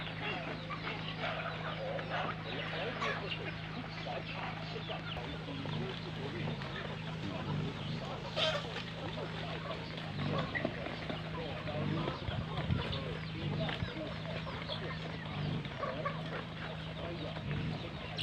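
Free-range chickens on a small farm cluck steadily as a dense, continuous flock sound at moderate distance, with a steady background hum and occasional voices.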